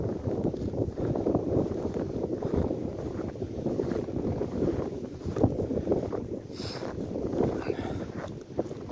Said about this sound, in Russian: Ветер не камильфо